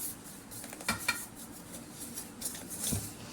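Ground cardamom mixture for elakkai barfi is moved from a dish onto a plate, giving a few soft scrapes and light clinks of a utensil against the dishware, close but quiet, with no talking.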